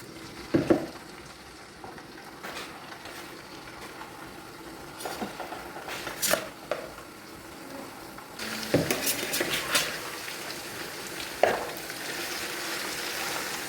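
Fish pieces fry in hot oil for a Lakshadweep-style fish pickle, giving a steady low sizzle with scattered pops and clinks of utensils, no voices.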